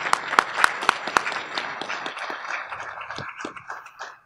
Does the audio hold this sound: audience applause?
yes